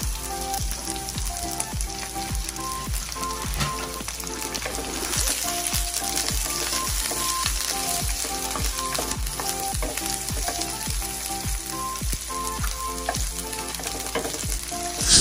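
Onion sizzling and frying with garlic in a pan for a Filipino chicken afritada, a steady loud crackle with repeated stirring scrapes throughout, no voices.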